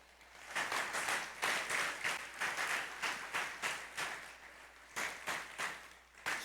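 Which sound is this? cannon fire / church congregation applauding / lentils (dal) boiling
church congregation applauding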